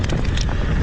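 Strong headwind buffets the microphone during a fast ride on an Ausom Gosoul 2 e-scooter, a loud, steady broadband roar filling the whole moment with no speech.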